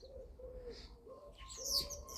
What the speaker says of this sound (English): Birds are having a bit of an argument over